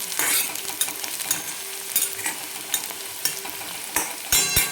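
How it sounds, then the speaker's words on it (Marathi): Two green chillies sizzle in hot oil in a pan for a spiced masoor dal and onion dish, with a steady close frying hiss and several sharp spoon scrapes as they are stirred; no voices. "दोन हिरव्या मिरच्या आहेत त्या टाकून घेऊ आपण"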